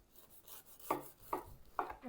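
A knife that is not a bread knife sawing through a freshly baked wheat loaf with nettles and a sesame-seed crust, three quiet, evenly spaced crunchy strokes up close.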